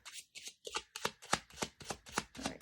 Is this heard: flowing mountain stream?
no